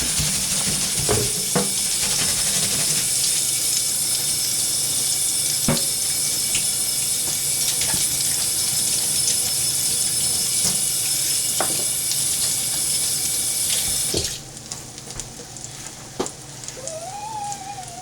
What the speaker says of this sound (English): just give the spatula a quick wash